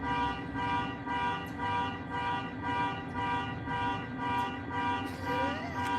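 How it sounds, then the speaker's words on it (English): A car alarm horn honks on and off in a steady, repeating rhythm, moderately distant and continuous throughout, with no voices over it. "They went up there to the car, they just left it honking."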